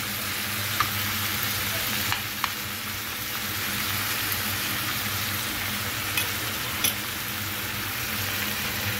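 Tomatoes sizzling in a frying pan while cooking menemen, a steady broadband crackle and hiss with a few sharp pops over a low background hum.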